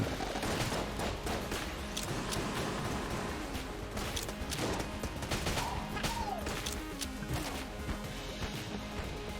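Molotov Launcher fire in the video game Enter the Gungeon: a dense, continuous barrage of crashing, crackling shots and impacts layered over busy game sounds, steady and loud throughout.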